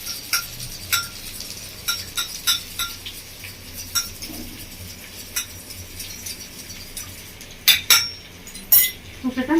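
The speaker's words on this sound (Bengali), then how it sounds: "মশলাটাকে ভালো করে মিশিয়ে নেবো জলের সাথে।" A spoon mixes masala spice paste with water in a small metal bowl for a Bengali-style baigan masala curry, making a steady run of quick, light clinks and taps, close and clear, with a brighter cluster of clanks near the end.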